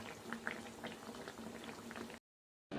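Badusha pastries fry in hot oil with a steady, soft bubbling sizzle, close and even, that drops out briefly before resuming.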